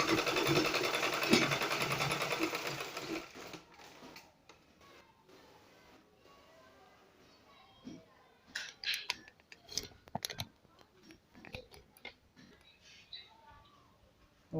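A sewing machine stitches along a polo shirt placket, running loud and steady for about three seconds, then giving way to scattered clicks, fabric handling and faint intermittent stitching bursts.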